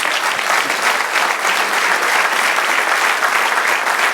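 A church congregation applauds loudly and steadily throughout, dense clapping filling the room with no talk over it.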